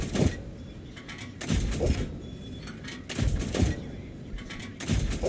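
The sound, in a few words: tank gun firing at LT-VZ38 in World of Tanks video game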